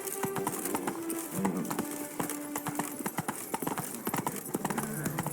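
Hooves of Roach, Geralt's horse in The Witcher 3, galloping in a fast steady clip-clop rhythm close up and continuous, with faint bird calls and a brief low voice underneath.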